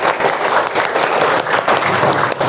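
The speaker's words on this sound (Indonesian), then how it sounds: "Beri tepuk tangan." A group of students applauds after a group presentation in a classroom, with steady, dense clapping from many hands that carries on without a break.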